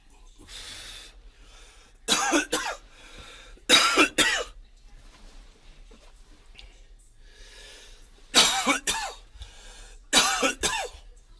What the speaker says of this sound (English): Unrestrained coughs are the best ones.